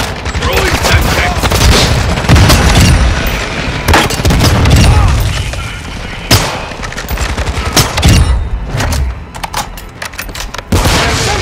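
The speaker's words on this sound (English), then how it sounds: "Throwing flash grenade!" Flash grenade blast in Call of Duty: Modern Warfare II amid a dense, continuous barrage of gunfire and booming explosions, with several sharp loud bursts standing out over the chaotic battle noise.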